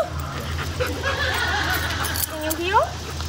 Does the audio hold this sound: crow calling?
no